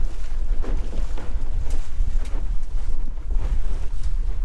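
A sailboat heels along in steady wind, with continuous, loud rushing wind and water noise buffeting the microphone throughout. No one speaks.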